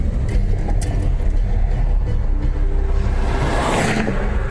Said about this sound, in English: Oh wow, the BMW's going for it.